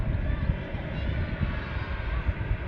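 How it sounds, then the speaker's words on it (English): A Ryanair Boeing 737 at Manchester Airport produces a steady, rumbling jet roar heard at a distance, constant and low through the short stretch, with a voice talking over it. "Ryanair 737."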